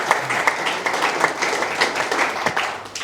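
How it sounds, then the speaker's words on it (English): Applause at a Zero Hunger Trust Fund anniversary media launch, a crowd of hands clapping in a sustained burst with distinct individual claps standing out, fairly close and lively. "we should clap for that"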